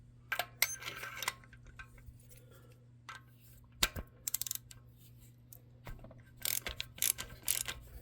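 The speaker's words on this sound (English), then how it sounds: "Once you've cracked it loose, take the ratchet off, and then you can spin it out by hand." A ratchet with a 5/8 socket cracks loose a spark plug on a 2013 Honda Civic 1.8L engine, giving scattered metallic clicks, clacks and tool knocks, close and irregular, with no talking.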